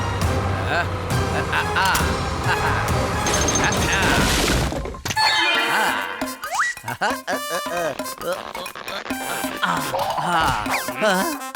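A wall cracking and breaking makes a loud, dense crash that fills the first few seconds, then animated voices talk over lighter background noise.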